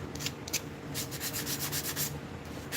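A hand works 100 grit sandpaper against a shaped piece, giving close, rhythmic scratchy rubbing strokes in quick repeated bursts with short pauses between them.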